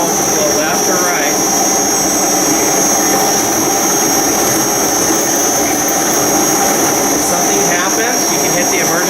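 An ASL RT3 ride-on concrete grinder runs with a steady, loud mechanical drone and whine that holds unchanged throughout, close by.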